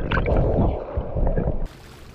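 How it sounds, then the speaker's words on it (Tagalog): Strong river current surges and gurgles close by, a dense low churning of water that cuts off abruptly near the end, with no voices. "Mukha lang kalmado yung tubig pero malakas yung alon,"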